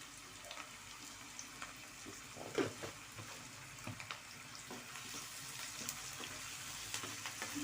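Onions frying in a pan for banana flower curry, a soft continuous sizzle with faint stirring clicks, low and steady with no voice.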